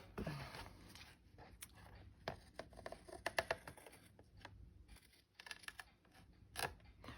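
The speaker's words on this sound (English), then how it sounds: "I'll just use my big scissors" Scissors snip through paper in a series of short, crisp cuts, close and quiet, with soft rustling between the irregular snips.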